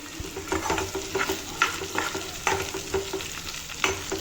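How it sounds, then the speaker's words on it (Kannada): Onions frying in a lidded pan over a low flame, a steady close sizzle broken by irregular stirring scrapes every half second or so, with no talk. "ಆನಿಯನ್ ಬೇಯಬೇಕಲ್ವ ಸೊ ಅದಕ್ಕೆ ಲಿಡ್ಡಲ್ಲಿ ಕ್ಲೋಸ್ ಮಾಡ್ತಾಯಿದ್ದೀನಿ ಲೋ ಫ್ಲೇಮಲ್ಲೇ ಫ್ರೈ ಮಾಡ್ಕೋಬೇಕು ಇದು"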